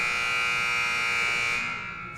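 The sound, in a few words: basketball game buzzer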